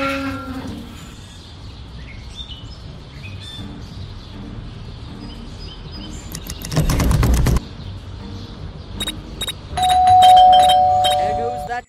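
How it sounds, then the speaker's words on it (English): A doorbell chimes twice inside the Scary Teacher 3D video game, sounding a loud ringing tone near the end, after an earlier burst of game noise, over quiet in-game background sound. "There goes that stupid bell again."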